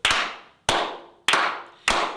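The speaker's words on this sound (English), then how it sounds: "Can we clap that in?" Four sharp, evenly spaced claps ring out in a podcast studio, each a loud, close hit with a short reverberant tail.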